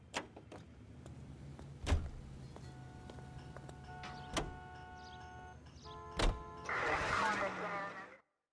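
A car in the game LA Noire, with sharp door clunks and clicks over a whirring mechanical hum and tonal background, plus faint muffled voices.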